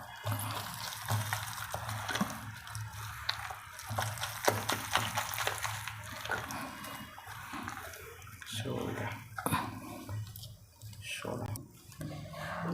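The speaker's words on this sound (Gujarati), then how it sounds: "અને એક ચમચી પાણી હવે એને ફેટી લેવાનું" Gram flour fritter batter with soda, hot oil and a spoon of water is beaten by hand, giving continuous wet sloshing and slapping strokes, close and steady, while someone talks over it.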